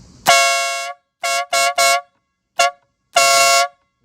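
A WADEO 12V 150 dB electric horn, tested in a quiet, out-of-the-way spot, blares in six very loud, close blasts: a long opening honk, three short quick toots, a brief chirp, then another sustained blast.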